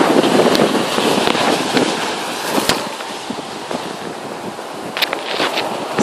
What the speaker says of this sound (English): These winds are gusting at right now 20 miles per hour.